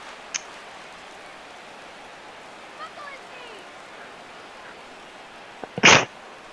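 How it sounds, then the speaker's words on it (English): A single sharp sneeze bursts out near the end, close and loud, over a quiet room tone with faint, soft background sounds from a baseball video game. "Poorly timed sneeze again"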